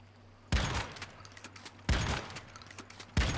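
A shotgun fires in the video game Once Human, three loud sharp blasts spaced about 1.4 seconds apart, each trailing off with a rumbling decay.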